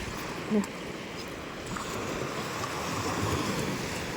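Sea waves washing onto the shore, a steady broadband rush of surf with wind noise on the microphone, moderately loud and continuous, with faint voices in the background.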